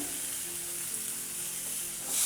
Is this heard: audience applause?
no